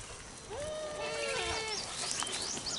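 Goats bleat at a farm, with a wavering cry near the middle and more calls layered over steady outdoor background noise.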